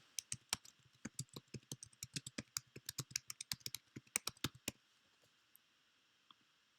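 Typing a restaurant review on a computer keyboard, a steady run of close, crisp key clicks in an uneven rhythm for several seconds, then trailing off to a couple of isolated taps in a quiet room.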